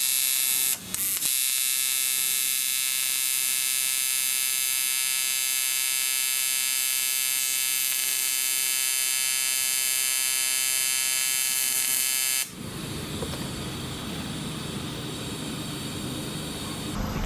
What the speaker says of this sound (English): let's go ahead and try to pulse TIG weld aluminum for the very first time right here on camera